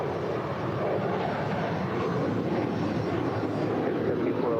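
An airliner rolls for takeoff on runway 25 right at LAX, its engines producing a steady, loud, unbroken roar that holds at full power throughout.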